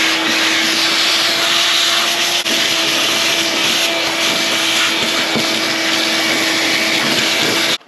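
A shop vacuum sucks debris off the floor of a rusty 1977 Ford F100 pickup, a loud, steady roaring whine that runs almost unbroken for about eight seconds before cutting off abruptly, with occasional rattles of debris passing through the hose.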